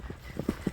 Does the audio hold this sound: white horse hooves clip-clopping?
yes